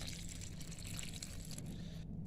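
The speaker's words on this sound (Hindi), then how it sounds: "ये मैंने पानी दे दिया।" Water pours steadily onto dry soil in a garlic plant pot, a continuous close splashing trickle that stops abruptly near the end, with no talking.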